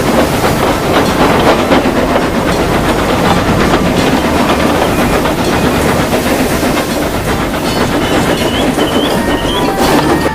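An express train hauled by a steam engine, heard as a loud, continuous roar of wheels and rail clatter with hissing, sustained without pause throughout.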